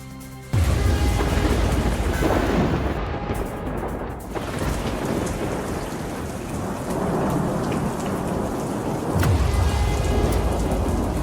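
Heavy rain pours steadily on surfaces while loud rolling thunder rumbles through, with dense, continuous downpour noise and deep booming swells near the start and again toward the end.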